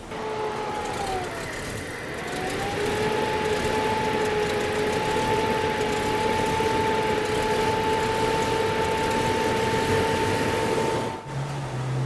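A Jeep engine with a bad throttle position sensor idles unevenly, its steady drone wavering in pitch as the revs dip and recover near the microphone, then cuts off abruptly near the end.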